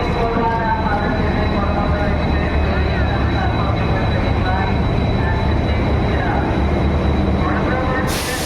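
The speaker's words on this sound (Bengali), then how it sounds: "এই আমাদের ট্রেন চলে এসেছে, করমণ্ডল এক্সপ্রেস।" Coromandel Express (12841) pulling into Howrah station, a steady loud rumble of rolling railcars with a faint metallic whine running throughout, people talking over the station din.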